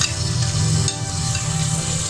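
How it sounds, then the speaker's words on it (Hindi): Ginger, garlic and tomato fry in a pan for an aloo green-bean dish, a steady close sizzle with low stirring rumble running continuously throughout, no voices. "तकरीबन 2 मिनट के लिए अच्छी तरह भूनेंगे।"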